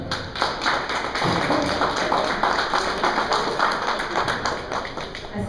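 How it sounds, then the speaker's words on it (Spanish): Spectators at the opening of a Jalisco artisan exhibition clap for a deputy, with individual hand claps standing out as distinct sharp taps in a moderately sized, fairly close crowd that keeps a steady pace. "para quien les pido un fuerte aplauso."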